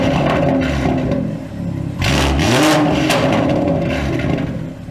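A BMW 340i with a B58 engine, catless downpipe and tune, revving loudly up close; the deep raspy engine note rises and falls through a couple of blips.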